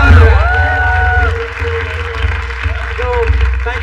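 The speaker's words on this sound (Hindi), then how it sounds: "तो एक बार जोरदार तालियां बजाओ." An audience at a live comedy show cheers and claps, a loud steady roar of crowd noise with shouts rising over it.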